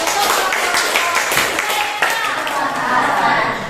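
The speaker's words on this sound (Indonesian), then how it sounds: "kita kasih tepuk tangan." A classroom of students claps together during a lesson on editorial texts, producing a continuous patter of hands mixed with children's chatter and a teacher's voice.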